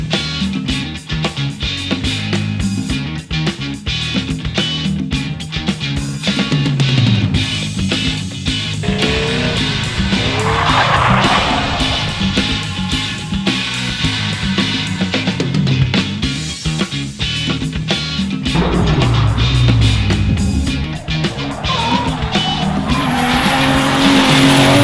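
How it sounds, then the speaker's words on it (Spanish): Drift cars slide sideways at Ecotrack in Sabana Seca, tires squealing and skidding over loud, revving engines with rapid ignition-cut crackle, one car after another passing close for nearly half a minute. "Vamos a ver un poquito de carros drifteando"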